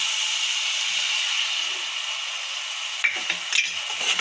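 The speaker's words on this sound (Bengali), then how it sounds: "এবার গুলিয়ে রাখা মশলাটা দিয়ে দেব" Mixed spice paste for egg curry cooking in a hot pan, a steady soft sizzling hiss, followed near the end by a few sharp clinks and scrapes of a utensil, close and with no talk.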